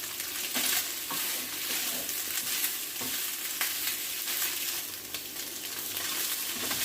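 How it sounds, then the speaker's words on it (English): Soya chunks and boiled potatoes frying in oil in a pan, a steady close sizzle with occasional stirring scrapes throughout, no one talking. "I've added some more oil and I'm frying it."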